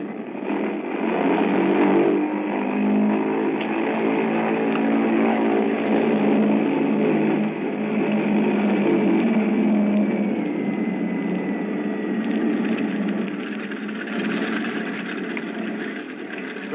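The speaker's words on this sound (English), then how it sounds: "we were completing our engine run up at the head of the runway" Bomber aircraft engine run-up as a radio drama sound effect, a steady droning piston roar that swells and eases slightly, heard continuously without talk.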